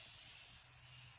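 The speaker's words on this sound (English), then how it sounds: "I'm just gonna put a little bit more of this Morphe Continuous Spray" A steady hissing spray of Morphe Continuous setting spray from a bottle, a single close continuous burst lasting about a second.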